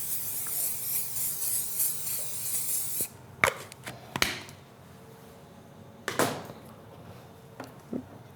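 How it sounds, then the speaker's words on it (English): Oil spray hisses onto parchment paper in a steady burst lasting a few seconds, then stops, leaving a quieter stretch with several sharp taps and rustles of kitchen handling. "I like to use a little bit of oil spray."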